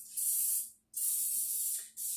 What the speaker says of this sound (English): I'm spraying the top portion of the fluted pan above the caramel